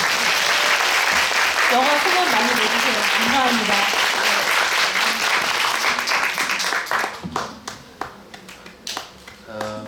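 Audience at a film talk claps in a dense, sustained round of applause that thins into scattered claps near the end, with a speaker talking over it.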